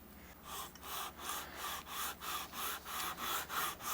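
Rhythmic back-and-forth scratching of sandpaper on a rosewood Telecaster guitar neck held in a vise, about nine even strokes, close and soft.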